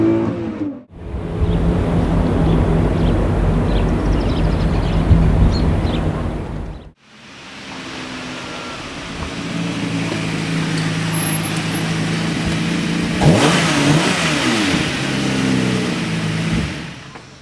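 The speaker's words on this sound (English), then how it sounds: "If you want to really rev it up, obviously you get that symphonic Italian noise." A 2004 Lamborghini Murcielago engine revs hard and accelerates in two long loud pulls separated by a brief drop, the second building with rising engine tones and a late surge, close and without speech.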